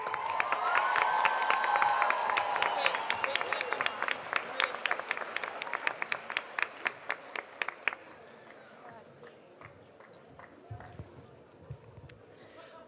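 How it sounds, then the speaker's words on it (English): Graduation crowd at a high school commencement ceremony gives the band a round of applause, dense sustained clapping with some cheering that thins to scattered claps after about eight seconds. "Please give them a round of applause."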